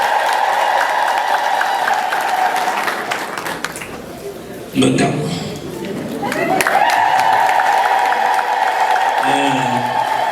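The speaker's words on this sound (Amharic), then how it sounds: "በእልልታ በጭብጨባ ከፍ አድርገን እናመስግነው" A congregation claps and ululates in praise, with a sustained high trilling and a dense patter of clapping that dips midway and then swells again, under a speaking voice.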